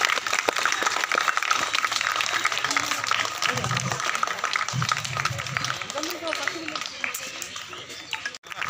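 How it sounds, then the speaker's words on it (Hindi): An audience at a Women's Day event keeps up continuous applause through a girls' taekwondo self-defence program, dense and fairly close, with an announcer's voice and crowd murmur running over it. "तालियां बजती रहनी चाहिए।"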